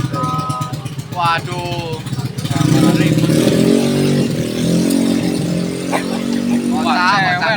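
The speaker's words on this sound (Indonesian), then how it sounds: "wah lagi-lagi nih motor berisik banget, parah banget." A noisy motorcycle passes on a street in Klaten, its loud engine droning and revving steadily for several seconds while someone talks over it.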